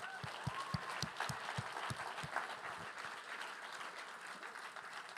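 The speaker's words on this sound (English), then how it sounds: "let's give all presenters a big round of applause" Audience at a startup demo day applauds the presenters: a soft, continuous wash of clapping from a crowd, with a few distinct heavier claps standing out near the start before it settles into an even patter.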